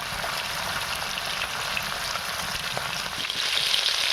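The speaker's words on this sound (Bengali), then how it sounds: "মাছটা ভালো করে লাল লাল করে ভেজে নেব।" Pieces of bhola fish frying in hot oil in a pan, giving a steady, dense crackling sizzle that is close and continuous and grows slightly louder near the end.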